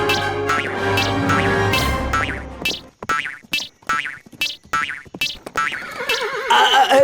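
A cartoon horse neighs and whinnies loudly in an animated Panchatantra folk tale, the long bright whinny followed by a run of short bouncy hits that sound like hooves or comic boings, then another neigh at the end.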